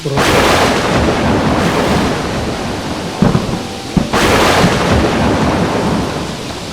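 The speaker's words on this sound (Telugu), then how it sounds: "ఒక్కసారిగా మేఘాలు కమ్ముకుని జోరున వాన" Loud, close thunder rumbles over a steady downpour of heavy rain, with sharp cracks midway and another roll surging afterward.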